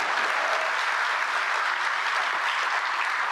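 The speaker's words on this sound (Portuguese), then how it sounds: "Uma salva de palmas para a nossa ministra Margarete Menezes." An audience at a Brazilian government ceremony applauds the culture minister Margarete Menezes with sustained, even clapping and no talk.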